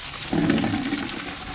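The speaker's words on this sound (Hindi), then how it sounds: "पानी भर लेते हैं जल्दी से" Water gushes from a tap into a container in a Pahadi hill village: a steady, close, low rushing pour that begins after a short pause and runs to the end, with no talking.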